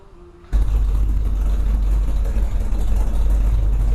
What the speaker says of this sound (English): Got the truck running. Sounds great.